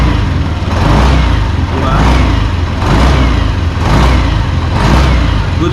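A 2026 Yamaha NMAX 155 V2 scooter engine revs in a steady series of rising and falling swells, loud and close, with a brief spoken word over it.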